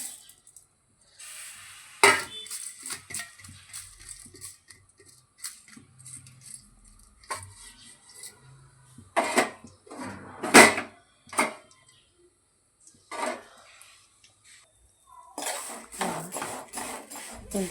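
A spatula stirs food frying in a little oil in a pan until golden, giving intermittent scraping and clattering strokes against the metal with soft sizzling underneath, close and fairly loud, in irregular bursts with pauses.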